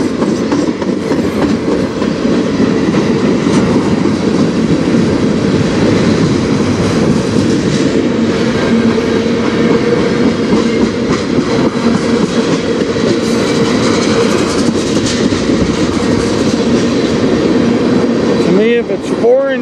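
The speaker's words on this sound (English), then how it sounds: "But it is a foreign power locomotive." Freight train with a Kansas City Southern locomotive passing on a Canadian rail line, a loud continuous rumble with rhythmic clickety-clack of wheels and brief wheel squeal near the end, heard close up throughout.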